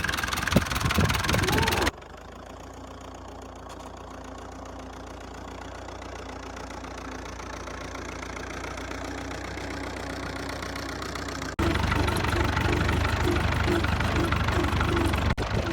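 A Massey Ferguson 130 tractor engine idles with a steady low rumble, louder at the start and end, quieter and more distant in the middle stretch.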